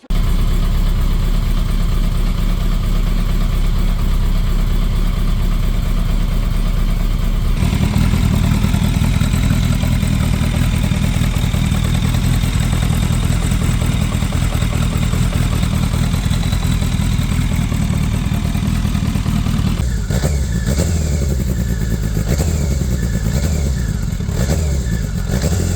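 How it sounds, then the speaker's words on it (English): A turbocharged BMW K100 motorcycle engine fires up on full choke and runs loudly and continuously up close, its steady idle changing character a couple of times. "then I press the start button and then it fired up and sounds like this"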